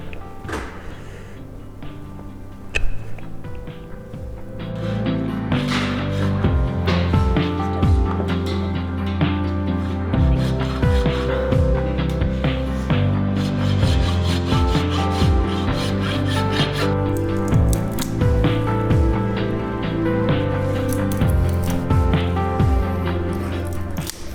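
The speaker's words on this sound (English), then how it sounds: "I'm gonna try to take this clog off without removing what we did to build up the toe" A farrier works a wooden hoof clog off a horse's hoof, producing continuous rough rasping and rubbing at steady loudness under constant background music.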